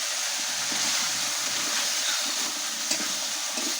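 A live snakehead fish hits hot oil in a pan for a jhol curry, throwing up a continuous loud sizzle and hiss with small crackling pops, close and unbroken, without voices.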